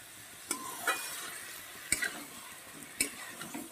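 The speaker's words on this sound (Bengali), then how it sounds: "সবজি আর সয়াবিন। তো এটাও বেশ আমি কিছুক্ষণ আরও 2-3 মিনিট আমি ধিমে আঁচে কষিয়ে" Fried vegetables and soybean sauté gently in a pan over a low flame, with a faint, steady sizzle punctuated by a few light spatula taps and clinks spaced about a second apart.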